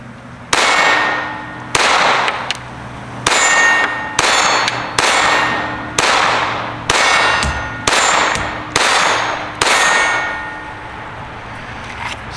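Kel-Tec P17 .22 pistol firing CCI Mini Mag rounds at a range, nine loud sharp shots spaced about one second apart, each with a ringing tail, no talking.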